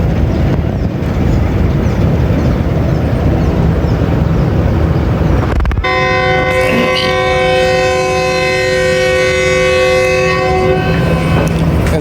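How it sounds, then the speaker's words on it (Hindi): A passenger train pulls out of Shadatpur station with a long, loud, multi-tone horn blast after several seconds of rumbling, rolling rail noise, close and continuous. "ट्रेन चल पड़ी है"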